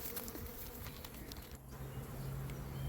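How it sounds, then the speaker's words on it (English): A swarm of honeybees buzzes inside and around a wooden Warre hive, a faint steady drone with individual bees zipping close past the microphone, no voices. "the bees have calmed down and are clearly packed into this hive"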